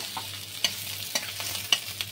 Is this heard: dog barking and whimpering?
no